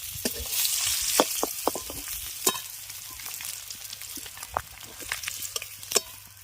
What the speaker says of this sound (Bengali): এবার দুই পিস উল্টে পাল্টে মাছগুলোকে ভালো করে ভেজে নেব